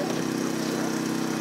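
Hydraulic rescue tool powered by a steady droning engine or pump while cutting a car body during a rescue drill, a continuous loud hum with no pauses.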